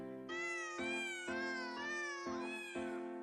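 Cartoon black cat meowing repeatedly, a series of clear, close, drawn-out meows with rising and falling pitch, heard alone without any talk.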